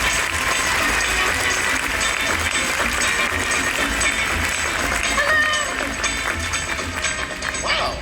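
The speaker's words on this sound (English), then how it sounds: "Round of applause." Audience applause at a Haunted Mansion 50th anniversary panel at the 2019 D23 Expo, a loud, dense crowd clapping steadily throughout, easing slightly toward the end.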